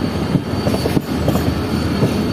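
The Pakistan Railways 8 Down Tezgam Express arrives at Karachi, its wheels rumbling loud and close with a steady clatter and faint squeals over a continuous roar.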